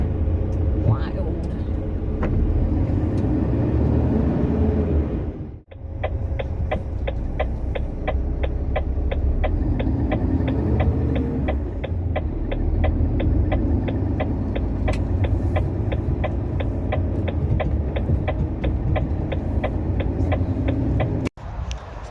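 Steady engine rumble and road drone from a truck driving along, loud and continuous with a regular ticking over much of it, while a person talks throughout.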